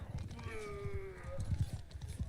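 Horse hooves clop in Mount & Blade: Bannerlord, a quick irregular trot of low thuds at moderate volume, with a brief whinny-like tone and a voice talking over it.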